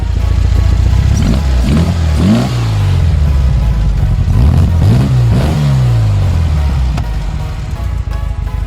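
A 1974 Volkswagen 1303S engine is revved hard in two clusters of quick throttle blips, its pitch surging up and falling back over a loud, rough idle, with no talk.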